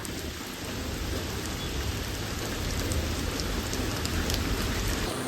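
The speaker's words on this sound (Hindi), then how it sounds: "यहाँ पे बारिश बहुत तेज़ शुरू हो गई है" Heavy rain pours steadily outdoors at a car repair spot where a Mercedes W124 is being worked on, a dense continuous hiss with low rumbling beneath, loud and unbroken throughout with no voices.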